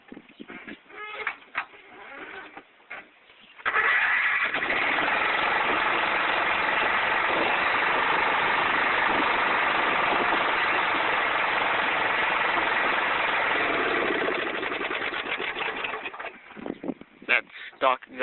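A 12-horsepower single-piston Briggs & Stratton yard tractor engine with stock exhaust fires up after a few seconds and runs at a loud, steady chug before cutting off, with brief talk before and after.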